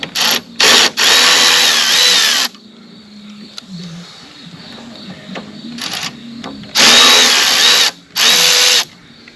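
A power drill takes bolts out of a Toro Recycler mower with a Kohler engine: loud, close whirring bursts, a few short ones and then longer runs, with quiet gaps of handling in between.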